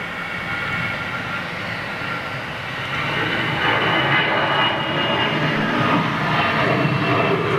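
Jet aircraft engines roar at Zurich Airport, a broad, loud and continuous rumble that swells and grows stronger partway through. There is no speech over it.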